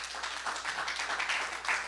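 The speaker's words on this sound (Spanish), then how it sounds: "Den una ofrenda de palmas al Señor." A church congregation applauds in a steady wash of many hands clapping at once, a dense sustained patter heard alone without speech.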